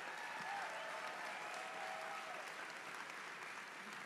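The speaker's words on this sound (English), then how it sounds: "That should get a really big round of applause," An audience at a CPAC panel on energy and Big Tech bursts into sustained applause, a dense, even clapping that holds steady throughout.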